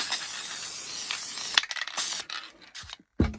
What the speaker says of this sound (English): I have some Loctite adhesive, and I'm going to spray some of that on there.